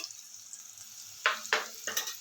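Bitter gourd and onion chili masala stirred in a pan, with a soft steady sizzle and three sharper scraping stirs near the end, close and moderately quiet.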